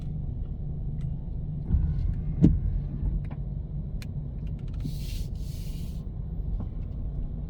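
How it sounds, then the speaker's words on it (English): A large vehicle rolls past on a wet, rain-soaked road in rural Santa Cruz, St. Elizabeth, Jamaica, a low rumbling swell with tyre hiss that peaks midway over steady rain noise. "Big unit passing by."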